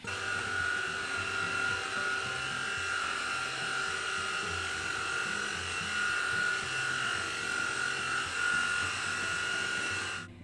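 A Levoit LVAC-120 cordless stick vacuum on its hardwood setting hums and whines steadily at close range over wood floors, a constant motor drone that runs without pause until it cuts off.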